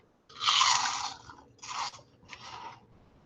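Crunchy Taco Bell cinnamon twists being chewed close to the mic, three distinct crisp crunching bursts with short pauses between, no talking.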